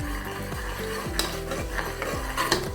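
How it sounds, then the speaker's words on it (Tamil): A spoon stirs curd into potato kurma in a pan, scraping in a steady rhythmic pattern about twice a second with a soft sizzle underneath and occasional metallic clinks, with no talking. "தயிர் விட்டு நல்லா கலக்கிக்கோங்க."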